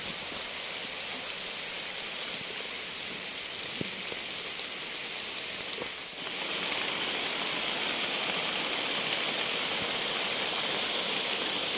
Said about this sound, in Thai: ตอนนี้ฝนก็ตกแล้วเพื่อนๆครับ